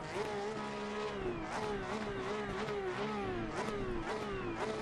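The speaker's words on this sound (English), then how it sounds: "I love the sound of this car." A Porsche Cup race car engine in the video game Assetto Corsa Competizione drones at high revs, pitch dipping and climbing with gear shifts and throttle changes, steady and loud throughout with no talking.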